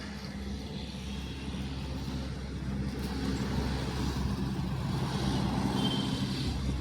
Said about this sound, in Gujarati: પેલી બાજુ ઘણું ટ્રાફિક છે.